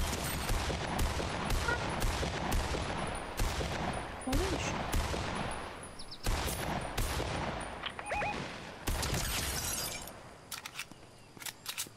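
Fortnite gunfire in a trios match: a rapid series of sharp, loud shots and bursts that crack repeatedly across the span, with glassy shattering edges and brief gaps before the firing resumes, no talking.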